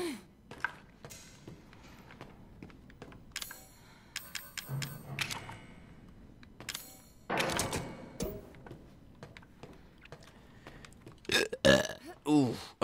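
A person burps several times while playing the horror game Resident Evil 7, with loud, irregular belches scattered among thuds, clicks and game sounds.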